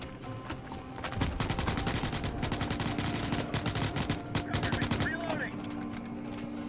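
Sustained automatic gunfire in the sci-fi shooter Starship Troopers: Extermination, dense rapid bursts with repeated cracks, while people talk over the shooting.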